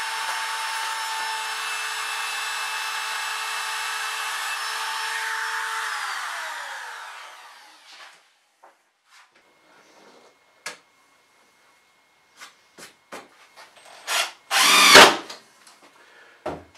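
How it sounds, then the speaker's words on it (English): A wood router cuts corners in wood for plywood craft-show shelves, a loud steady whine for about seven seconds that winds down, followed by scattered clicks and knocks and a short loud burst near the end. "I like how the router makes quick work of it"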